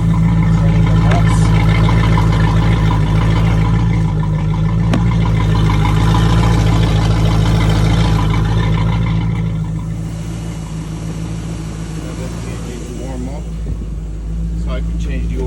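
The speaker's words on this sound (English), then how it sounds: "the engine is warmed up at 65 degrees" A Chris Craft Crown boat's Volvo Penta 5.8 engine runs steadily nearby, warmed up, a loud low rumbling drone that continues throughout with slight shifts in level.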